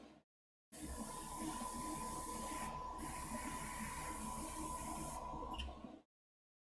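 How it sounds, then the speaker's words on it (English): Steady hiss of an airbrush spraying paint onto a Star Wars Legion LAAT/le gunship miniature, a continuous close spray lasting several seconds with a brief dip midway, bracketed by short silences. "If you just keep on spraying the entire time, paint will start to build up here on the nozzle"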